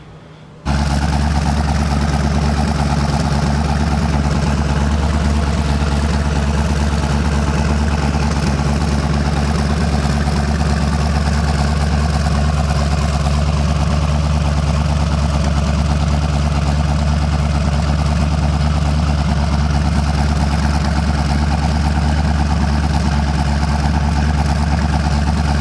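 A freshly rebuilt rotary engine in a Mazda RX-7 fires up almost at once and settles into a loud, steady idle. The close, unbroken drone continues for about 25 seconds, with no talking.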